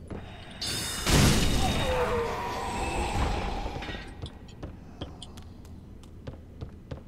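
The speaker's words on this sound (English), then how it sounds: "One of these fire bombs." A fire bomb bursts in Dark Souls 3 in Lothric Castle, a sharp blast followed by a roaring, crackling wash of flame that fades over several seconds into scattered taps and footsteps.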